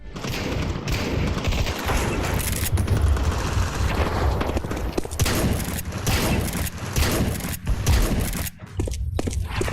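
Rapid gunfire in an FPS video game, loud dense bursts of shots with booms and mechanical clatter, continuous across the span with brief gaps near the end.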